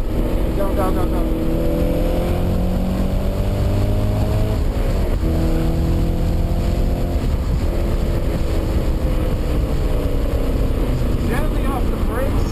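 An Audi RS4 accelerates out of a corner on the Lime Rock race track, its engine note rising steadily and loud inside the cabin, with a speaking voice running over it throughout.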